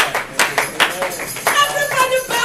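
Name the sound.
congregation clapping for Jesus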